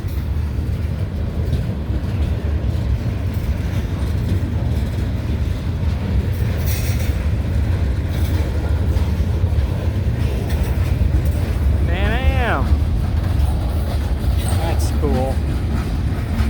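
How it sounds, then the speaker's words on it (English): A long freight train rolls past in Wyoming, a continuous low rumble of rail cars with wheel clatter and a brief high squeal of wheels partway through, heard up close with a voice speaking briefly. "Ah, dang, this is a long train."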